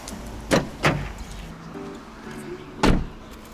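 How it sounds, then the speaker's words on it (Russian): People get into a car and its doors thump shut: two quick close thuds, then a pause with faint rustling, then a third solid slam. "Сейчас мы с мамой садимся в машину."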